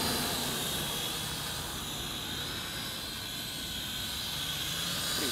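JJRC H5C quadcopter in flight, its small motors giving a continuous, even whir at moderate distance, steady throughout with slight swells in pitch.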